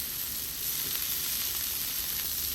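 Frozen Clover Valley burger patties sizzle steadily in a hot pan, a continuous close hiss and crackle with no talking.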